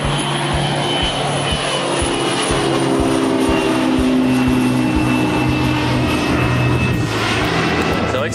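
Motor glider's propeller engine running steadily and loudly nearby at an airfield, a continuous droning roar with a sustained low hum throughout.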